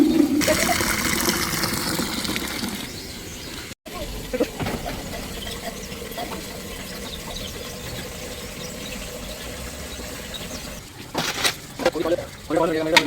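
Water splashes and runs continuously while the intestines of a four-month-old catfish are washed, close by. Squeaky handling noises and a few sharper splashes break through near the end.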